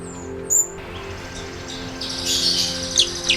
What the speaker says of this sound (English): Lahore Zoo has bird cages under trees, where many birds create different sounds.